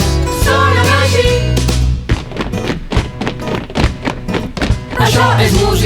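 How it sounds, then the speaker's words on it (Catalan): Rhythmic stamping of feet as body percussion in a Catalan group song, a run of sharp, heavy thuds in a steady beat standing out between stretches of singing and instruments. "Els peus sonen així."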